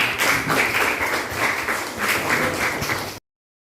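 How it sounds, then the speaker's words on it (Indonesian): Meeting participants clap together in a room, with a busy, steady patter of many hands lasting about three seconds before it stops abruptly. "Tepuk tangan dulu untuk kita semua"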